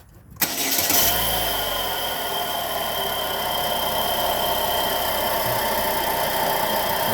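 A 2012 Chevrolet Sonic engine cranks and catches, then settles into a steady idle with a persistent high whine or squeal running over the engine hum, close and even throughout.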